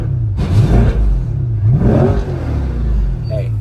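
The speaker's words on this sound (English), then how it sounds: "Factory Z51 exhaust, not bad, baby. Could be better, but not bad. Give her a few baby revs." A Chevrolet Corvette C8 with the factory Z51 exhaust is revved a few times, giving loud rising engine blips of roughly two swells that ease back to a steady idle, heard close up with no talk.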